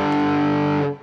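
Electric guitar played through the shred distortion of a Fractal FM3 MKII, a thick sustained chord ringing loud and steady for about a second before fading out at the end.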